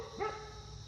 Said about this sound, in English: Dueling dogs.